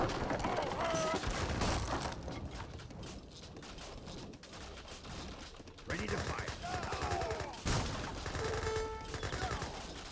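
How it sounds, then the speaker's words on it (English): Rapid automatic gunfire from Gatling guns in an Age of Empires 3 battle, dense crackling volleys running throughout alongside other battle noise, with a commentator talking over it. "So now these are fully automatic Gatling guns."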